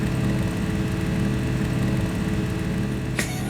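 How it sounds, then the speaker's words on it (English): A loud engine in the Sally Face video game drones on in a steady, heavy rumble throughout, with a brief sharp click near the end. "Loud as fuck engine, like."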